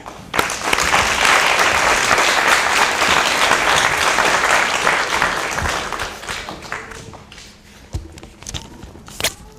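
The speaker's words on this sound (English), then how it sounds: "Could you give a warm round of applause for Mr. Cameron Moore?" Audience at a graduation ceremony breaks into loud, sustained applause that holds steady for several seconds, then thins out to scattered claps and tapers off near the end.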